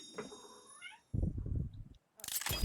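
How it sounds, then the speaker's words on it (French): A domestic cat meows several times indoors, with short voiced cries separated by pauses, fairly close and moderately loud, and a burst of noise near the end. "Désolé si jamais vous l'entendez, c'est juste qu'il y a mon chat."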